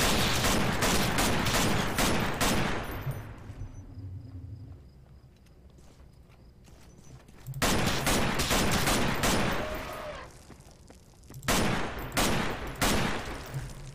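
Bursts of gunfire in the Half-Life 2 mod The Closure played in Garry's Mod, rapid volleys of loud shots at the start, again midway and near the end, separated by quieter echoing lulls.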